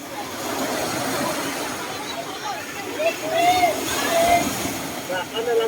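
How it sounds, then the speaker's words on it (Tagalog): Strong sea waves surge and break at a beach during a swim outing, a steady loud wash of surf with people's voices and shouts mixed in. "Ang lakas ng alon."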